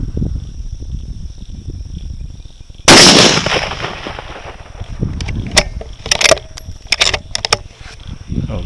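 A rifle fitted with a scope fires once, a sharp loud crack followed by a long decaying ring, then some clicks and handling rattles of the gear close by.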